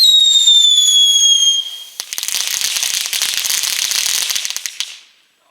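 A firework from an Action showbag: a high whistling rise, then a loud bang followed by about three seconds of crackling bursts that fade out.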